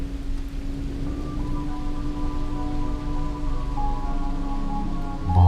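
Steady evening rain pouring down outside a college hostel, a continuous dense hiss with a faint low hum and tonal drone beneath, setting an eerie horror-story mood.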